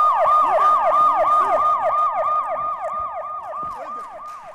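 A gas delivery truck's siren, easily mistaken for a police siren, wails in a fast repeating up-and-down cycle, loud and near at first and then slowly fading, with no talk.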